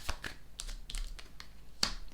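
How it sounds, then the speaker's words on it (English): Tarot cards shuffled by hand during a reading, a few close, crisp snapping riffles and taps spread over a couple of seconds, with one sharp louder flick near the end. "Let's shuffle one more time."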